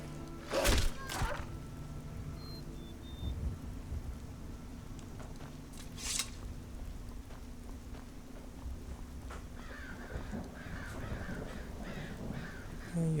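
Crows caw in Skyrim amid a rainy fishing village, a couple of sharp calls early on and scattered fainter ones later over a steady bed of rain and low ambient rumble.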